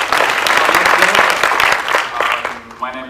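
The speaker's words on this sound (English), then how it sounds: "Give him a big round of applause." Audience applause after a talk at a PMI Malaysian Chapter symposium: a dense burst of many hands clapping together, loud and steady for about two and a half seconds before tapering off.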